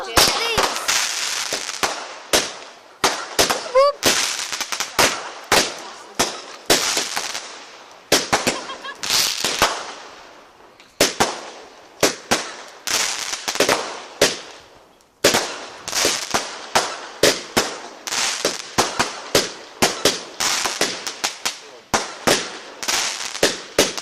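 Bonfire night fireworks burst in a dense, irregular string of sharp loud cracks and bangs, some in rapid clusters, with only brief gaps between volleys across the whole stretch.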